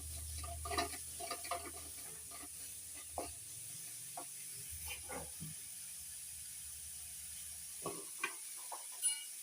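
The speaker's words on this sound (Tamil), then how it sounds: "அதை வந்து சேர்க்கலாம் சேர்த்து நல்லா வதக்கலாம்" Cabbage and carrots sautéing in butter in a pan, a soft faint sizzle with intermittent stirring scrapes and clicks, no talking.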